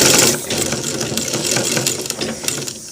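A sewing machine stitching a shirt collar, a close, continuous rapid mechanical whirr with a fast clattering rhythm across the whole short stretch, no voices.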